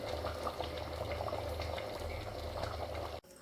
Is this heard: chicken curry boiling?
yes